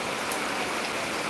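Heavy rain pouring down outdoors, a dense, even hiss of drops on surfaces with no break, steady and close, no voices.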